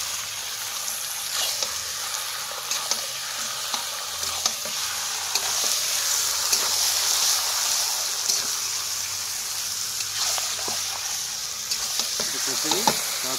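Chicken sautéing in a pan for chicken Maharani gives a steady, close sizzle, broken by repeated scraping clicks and knocks as a spatula stirs it, with no talk.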